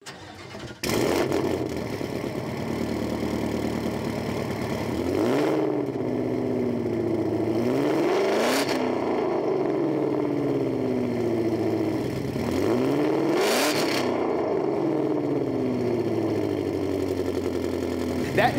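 A 2017 Ford Mustang Shelby GT350 V8 with Stainless Works long tube headers fires up and idles with a deep lumpy burble, then revs hard twice, each blip sweeping up and settling back.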